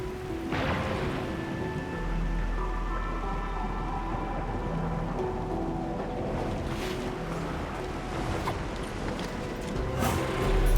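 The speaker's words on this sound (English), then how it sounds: "It's raining harder. I can't hear anything except for the rain." Steady, heavy rain in the video game Arknights: Endfield pours down in a dense continuous wash, with a low rumble underneath and occasional sharper spatters, no voices.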